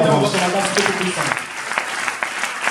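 A church congregation breaks into applause, with dense clapping that follows a brief spoken voice and then carries on and thins out in a reverberant hall.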